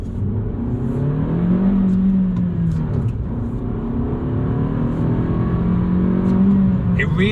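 Suzuki Swift Sport 1.4 Turbo with a mild hybrid system, heard from inside while driving, its engine droning in a steady strained hum that rises and falls slightly with load, loud and continuous throughout.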